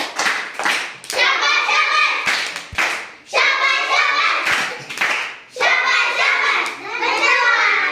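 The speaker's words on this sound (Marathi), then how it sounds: "तुमच्यासाठी जोरदार शाबासकीची टाळी घ्यायची." Schoolchildren in a classroom clap together in loud, fast rounds of applause, several bursts of rhythmic hand claps with brief pauses between them, mixed with children's voices.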